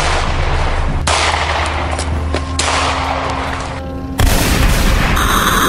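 Several loud gunshots ring out, one heavy blast after another, each booming and decaying, with a final harsher bang near the end and no talking.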